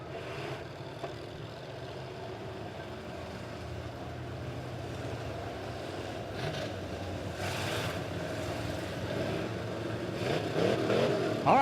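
Dirt-track modified race cars roll onto a dirt oval at Springfield Raceway for a B-main, their engines rumbling and idling at a distance, the roar building toward the end with no talk.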